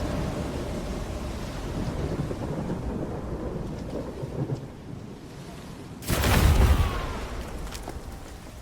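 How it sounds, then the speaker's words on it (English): Steady rain and rumbling thunder in the Stalker 2 video game, a constant wash of storm noise that swells into a loud, close lightning crack and boom near the end. "sometimes lightning can strike even a stalker wandering in a safe zone"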